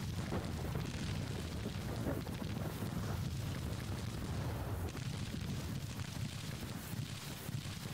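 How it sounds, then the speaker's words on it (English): Enemy artillery fires during a battle in the Civil War strategy game Grand Tactician, with muffled booms rolling over a dense, continuous battlefield rumble at moderate volume. "So there's a lot of enemy artillery here. I don't know who they're shooting at."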